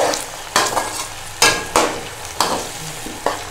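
A spoon scrapes and stirs turmeric and dried fenugreek leaves into potatoes in a hot karahi, six or so sharp scraping strokes at uneven intervals over a soft background sizzle, no talking.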